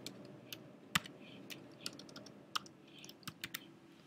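A computer keyboard being typed on while a new layer is named, giving a quiet, irregular run of sharp key clicks, some bunched closely together, close by.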